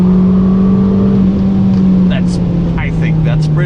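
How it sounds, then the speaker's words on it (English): An Abarth 595 Competizione with 180 hp and a Monza race exhaust pulls hard in third gear, a loud steady engine drone heard from inside the car, with a few short clicks and noises near the end. "Man, look how this thing goes with 180 HP. In third,"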